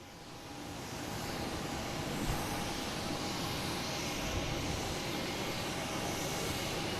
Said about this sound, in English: All right, we're gonna take it off now with Delta. A321 heading to Detroit.